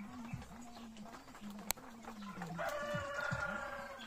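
Native chickens at a long feeder cluck and call close by in quick, uneven bursts, with a sharp tap and brief crowing-like calls, while a person talks over them.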